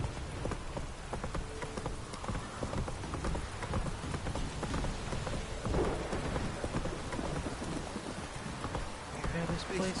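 Heavy downpour in The Witcher 3, a steady dense hiss of rain with scattered drop impacts and a low rumble running the whole time, no voices.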